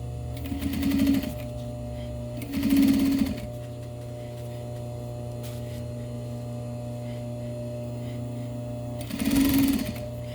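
A sewing machine stitching a zipper into a light jacket runs in three short bursts of whirring, about a second each, separated by pauses over a steady background hum, close and moderately loud.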